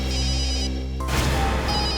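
Landline telephone ringing indoors in a Hindi crime drama, a steady electronic ring tone that cuts off abruptly, followed by a burst of noise.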